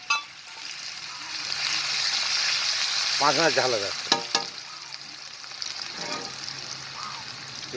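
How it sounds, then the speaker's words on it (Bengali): Onions hit burnt sugar for a Bengali pangas and tangra fish curry, a steady close sizzle running throughout while a voice speaks briefly in the middle. "চিনি পুড়ে উঠে গেছে, এবার পেঁয়াজ দেবো"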